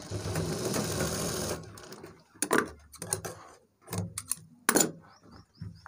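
A sewing machine stitches a trouser back pocket in a brief, dense run, then stops. Scattered sharp clacks and handling knocks follow close by.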